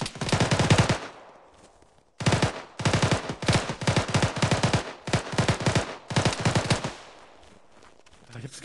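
Rapid automatic gunfire in the video game Arma, Chernarus Winter map, rattles in long, loud bursts with brief pauses between them, harsh and close.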